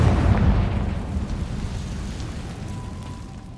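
A Confringo fire spell detonates in Hogwarts Legacy, a loud explosive blast up front that rumbles and fades over a few seconds in an abandoned spot.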